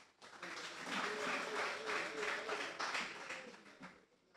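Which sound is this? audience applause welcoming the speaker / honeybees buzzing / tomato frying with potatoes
audience applause welcoming the speaker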